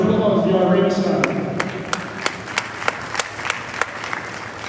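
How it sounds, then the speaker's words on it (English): Ringside spectators at a junior livestock show clap after a voice finishes talking, starting as a scattered, sparse round of distinct claps that stays fairly light and uneven. "please muster up a round of applause, y'all ringside"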